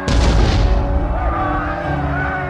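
Heavy battle din of cannon and gunfire in a Napoleonic-era war scene, a loud opening boom followed by sustained rumbling barrage with scattered reports, close and dense throughout.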